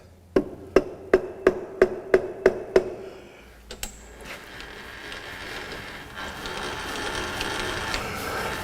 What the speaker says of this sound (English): Hit it on the fixed part of the vise.